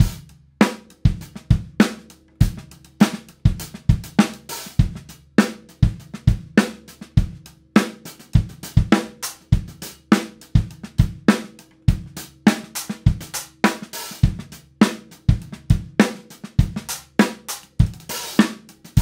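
A drum groove rolls continuously with underhand hi-hat flurries, triplet phrasing and trashy stacker cymbal hits over steady kick and snare, dense and close for nearly twenty seconds with no talking.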